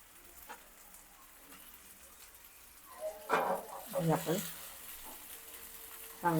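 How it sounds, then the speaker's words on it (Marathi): River fish drop into hot masala and start frying, with several sharp sizzling bursts and crackles over a quiet background, and someone speaking briefly. "मसाला आपला परतून झाला आहे आपण ह्याच्यामध्ये मासे घालूया"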